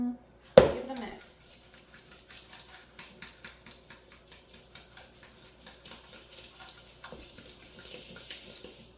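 A fork mixing in a bowl with apple fritter bread batter, clinking and scraping in a steady rapid rhythm after one sharp opening knock, close and moderately loud with no voices.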